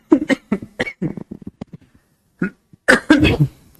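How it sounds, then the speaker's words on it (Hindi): A man teaching a maths lecture breaks into a sudden bout of repeated harsh coughs, close and loud, with throat clearing between the bursts. "पता नहीं एकदम से खांसी क्यों चल गई।"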